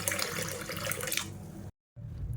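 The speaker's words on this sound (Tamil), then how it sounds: "இப்போ இதே 4-5 தடவை அலசிட்டு வந்துட்டு பார்க்கலாம்." Soaked toor dal lentils are rinsed under running water in a kitchen, a loud rushing splash that stops abruptly for a moment of silence and then starts again.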